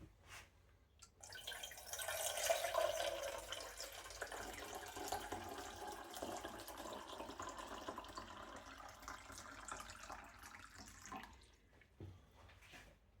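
Purified water runs steadily into a kettle for several seconds, its pitch rising as it fills, fairly quiet and close, then tapering off near the end.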